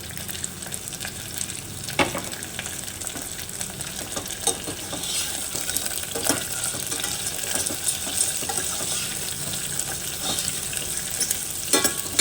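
Onions and tomatoes fry in a pan for a ponnaganti greens curry, giving a steady close sizzle with scraping stirs and occasional clinks throughout, no voices.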